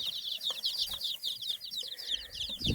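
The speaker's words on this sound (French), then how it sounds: "c'est des poussins poules pondeuses" Young laying-hen chicks peep constantly in a high, close chorus of rapid chirps with faint rustling underneath.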